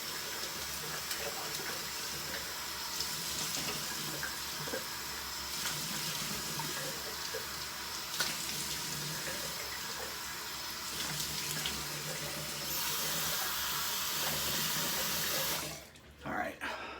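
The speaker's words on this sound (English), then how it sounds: "I'm just going to go ahead and rinse off my hands, splash a little bit of water on my face" A sink tap runs steadily while hands are rinsed and water is splashed onto a face, a close, continuous hiss of flowing water for most of the clip before cutting off abruptly near the end.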